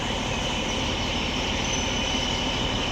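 A loud, steady rumble of a train arriving at a station close by, with a faint high metallic squeal drawn out over it.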